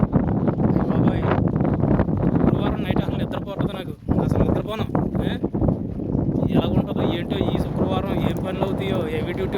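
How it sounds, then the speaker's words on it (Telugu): Strong desert wind in Kuwait buffets the microphone with a steady roaring rush, while someone talks throughout over the gusts. "చూడండి గాలి తీవ్రత ఎలా ఉందో"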